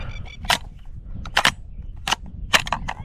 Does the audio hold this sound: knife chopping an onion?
no